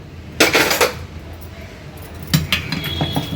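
A steel pot is lifted out of a pressure cooker in a home kitchen, giving two bursts of metallic clanking and scraping with a quiet pause between them.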